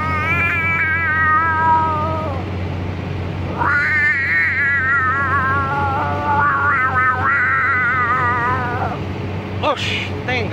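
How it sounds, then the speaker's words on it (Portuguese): A cat meows repeatedly inside a car at a Shell petrol station, drawn-out wavering cries separated by short pauses, loud and close over a low engine hum. "Oxi, tem gato aqui dentro"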